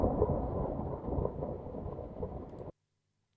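A self-recorded thunderstorm, apparently slowed down, gives a dense, continuous low rumble with rain-like texture that stays steady and fairly loud before cutting off abruptly into near silence.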